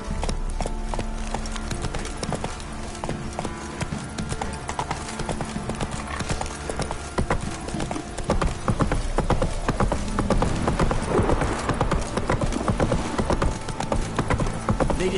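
Horse hooves clip-clop steadily while riding in The Witcher video game, a continuous rhythmic trotting that grows louder and busier in the second half, with game music and effects beneath.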